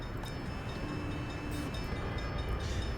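Train running in the video game Workers and Resources, a steady low rumble of rolling freight cars under faint clatter, moderately distant and fairly quiet, with no talking.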